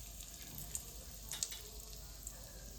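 Asafoetida sizzling in hot oil for a pickle tempering: a faint, steady frying hiss with a few tiny pops and clicks.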